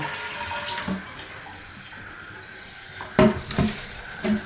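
An old toilet being flushed with water running, a soft low trickle punctuated near the end by several louder sloshing, gurgling bursts close by.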